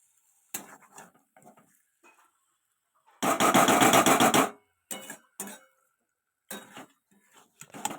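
Spoon stirring and scraping chicken kasha in a pan gives scattered soft clinks and scrapes, with one louder, rough burst of about a second, close by and in a quiet room.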